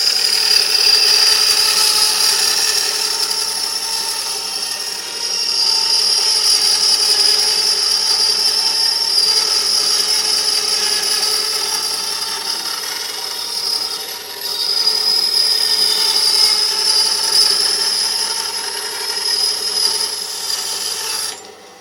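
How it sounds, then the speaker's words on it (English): A small Proxxon bandsaw cuts an aluminium lid template, a steady high-pitched whining rasp of blade on metal running continuously, loud and close, with slight dips in intensity. "I'm using my little Proxon bandsaw to cut a template"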